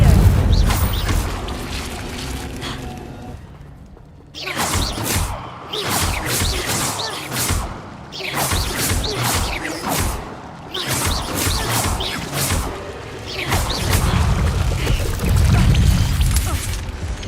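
Incendio fire spell cast again and again in Hogwarts Legacy, heard as loud repeated bursts of flame and impact, each followed by crackling debris, with one brief quiet gap early on.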